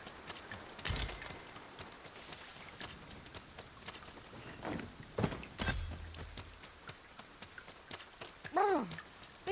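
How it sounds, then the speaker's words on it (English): Rain falls in the video game Dragon's Dogma 2, a steady soft patter with scattered hoof-like clops and brief speech-like bursts over it. "This rain is cold as ice."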